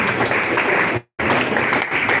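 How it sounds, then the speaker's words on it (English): Audience clapping at a young pharmacists' zonal summit, a dense steady round of applause that briefly cuts out and then resumes just as full. "Clap for my boss."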